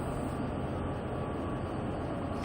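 A train rolls along at speed in the game Train Sim World 2, giving a constant heavy rumble that holds steady and unbroken with no talking.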